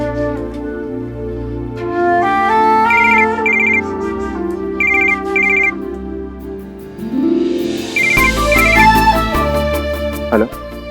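A phone ringtone plays loudly as a repeating electronic melody with bright trilling chimes, over a low background hum, continuing for several cycles.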